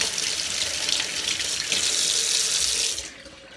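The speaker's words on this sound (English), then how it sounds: "And now I'm gonna wash my hands just in case" Running tap water splashing steadily into a sink while hands are washed, close and continuous, then abruptly quieter as the flow cuts off near the end.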